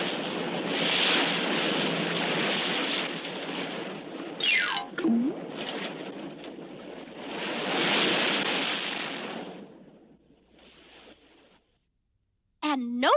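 Stormy ocean waves roar in a cartoon sound effect, a loud churning surge building and fading twice, broken by a descending whistle and a sliding tone, then falling quiet before a closing swoop.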